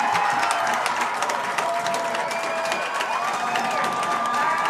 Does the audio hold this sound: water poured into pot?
no